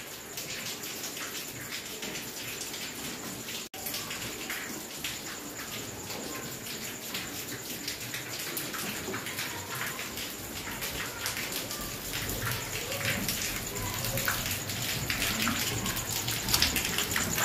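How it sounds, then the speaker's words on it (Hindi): Steady rain falls and patters outdoors, a continuous wash of hiss that grows slightly louder toward the end. "बारिश शुरू है"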